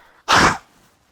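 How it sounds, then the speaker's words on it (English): A person blows their nose once, a short, loud, close burst of breathy honking lasting about a third of a second, alone in an otherwise quiet room. "I'm blowing my nose."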